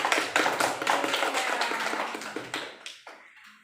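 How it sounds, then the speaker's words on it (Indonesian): Classroom applause for a student, a burst of fairly close hand claps from a group of pupils that thins out and stops, with no talking over it. "Tepuk tangan untuk Rizka."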